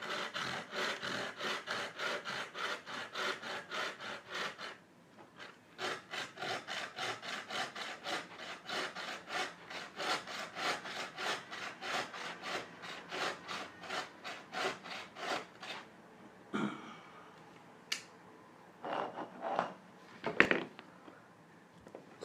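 A saw cuts a notch into a wooden bow drill hearth board with steady back-and-forth strokes. The sawing pauses briefly partway through, then resumes, and ends with a few scattered knocks and scrapes.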